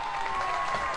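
A studio audience applauds at a health talk show to welcome a guest acupuncture specialist, an even, dense wash of clapping that holds steady and close for a brief moment.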